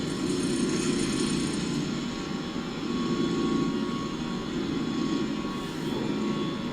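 Airliner engines roar steadily at high thrust through a takeoff roll in a flight simulator game, a loud continuous broadband rumble with slow swells in intensity.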